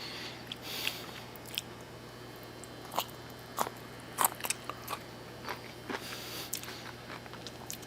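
Crispy roasted garlic vegetables being chewed up close, with repeated crunchy bites and sharp crackles in an irregular rhythm. No talking is heard.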